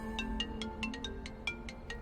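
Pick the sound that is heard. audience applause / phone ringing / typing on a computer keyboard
phone ringing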